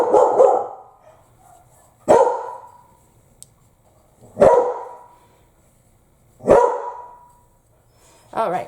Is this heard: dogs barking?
yes